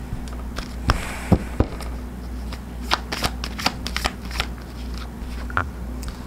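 A tarot card deck is shuffled close up, giving irregular papery riffles and sharp slaps at uneven intervals over a quiet background.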